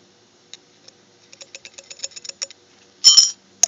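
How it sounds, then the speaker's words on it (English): Small pieces of tin metal dropping into a glass test tube in a chemistry lab make a string of light, sharp clinks and ticks. A brief, brighter glassy rattle follows near the end, close and alone. "Some tin metal has been added to the test tube."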